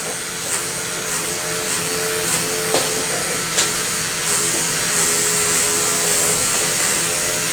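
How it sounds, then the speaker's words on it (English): A Wahl hair clipper running steadily with a rattly, worn buzz and a few small clicks while it trims hair laid with a red #5 comb, close and continuous with no talk. "this clipper needs to go off the wall and be fixed because it's getting a little rattly"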